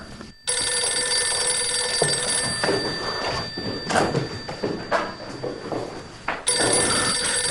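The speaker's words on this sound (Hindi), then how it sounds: "फोन तो उठाए अम्मी।" A telephone rings indoors in repeated close bursts of bell-like trilling that fill the room and stop abruptly near the end, with no voices.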